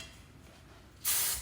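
Aerosol hairspray bursts onto teased, curled cheer hair in a short, loud, close spray that starts abruptly after a quiet stretch, with no voices.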